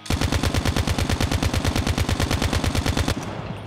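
Rifle fire in Call of Duty Mobile with a KN-44 or ICR-1: a loud, steady automatic burst of about two dozen evenly spaced shots rattles for three seconds, then cuts off into a brief echoing tail.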